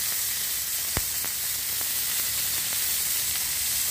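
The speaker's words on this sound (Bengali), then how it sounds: "এখন এটাকে আমি এ তেলে ভেজে নেব" Onions and chillies with turmeric-and-salt-coated fish fry in hot oil, a steady bright sizzle with a few sharp pops and spatters, close and continuous.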